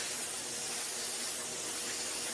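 A spray gun set to about 35-40 psi lays a test burst of HP5310 DTM primer onto paper, a steady, close, continuous hiss that holds evenly throughout, with no talk over it.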